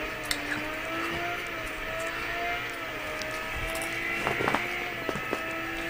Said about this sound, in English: it's a supercar